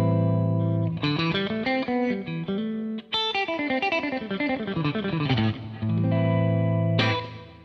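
An electric guitar on a clean setting through a Matchless Independence 35 amp plays a run of ringing chords and single notes, sustained and full, with no voices.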